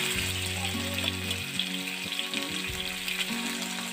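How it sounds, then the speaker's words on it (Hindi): Ginger garlic paste sizzles in hot oil with whole spices like cardamom, cinnamon, star anise and bay leaf for chicken kadai, a steady close crackling fry with some low tonal hum running underneath, no voices. "अब इसमें 1 टीस्पून अदरक लहसुन की पेस्ट डालकर भून लेंगे।"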